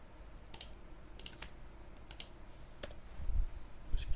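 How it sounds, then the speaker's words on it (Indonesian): Sparse keystrokes on a computer keyboard, entered while running a Kafka JSON producer, come as scattered quiet clicks in small clusters over a low background hum, with no talking. "Kita bisa ngetik atau paste beberapa baris JSON gitu."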